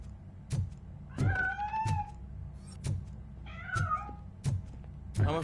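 Cat meowing in the video game Robocop Rogue City, several drawn-out rising and falling meows in close succession over low ambient game noise, moderately loud and near.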